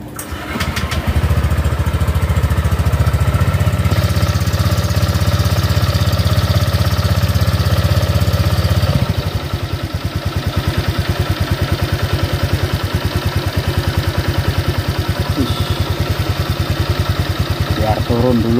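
Honda Vario 125 scooter engine starting up close and loud, with a high fast idle that then drops to a lower steady putter.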